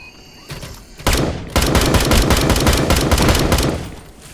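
Loud rapid gunfire in the Dysterra survival shooter, a quick opening shot followed by a sustained burst of automatic fire lasting about three seconds before trailing off.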